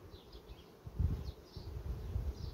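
A natural swarm of honeybees buzzes in a steady, dense hum with rising and falling swells, close and continuous, no voices.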